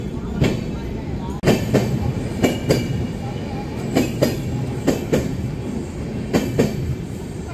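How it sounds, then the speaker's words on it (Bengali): The Darjeeling Mail pulls out of Malda station in West Bengal, heard from aboard: a close, rhythmic clatter of wheels over rail joints and a steady rumble, with a few squeals from the carriages. "4:16 সময় মালদা স্টেশন ছেড়ে বেরিয়ে যাচ্ছে"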